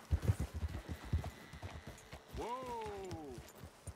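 Horses' hooves clip-clop in Red Dead Redemption 2, a quick uneven rhythm of close thuds for about two seconds, followed by a drawn-out tonal call over soft background sound.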